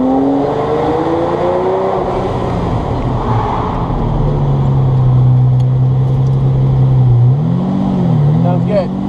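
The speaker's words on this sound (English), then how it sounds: "This exhaust is mental, check it out" A Ferrari 308 driven through a tunnel revs hard, its exhaust rising and falling in pitch as the engine climbs and drops, loud and close, echoing off the walls with road rumble underneath.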